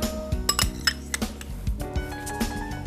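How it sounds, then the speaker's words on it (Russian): Salad being mixed with mayonnaise in a bowl, a spoon clinking repeatedly against the dish in an uneven, busy rhythm, close and loud with no talking. "И это все дело вкусненько мы перемешиваем"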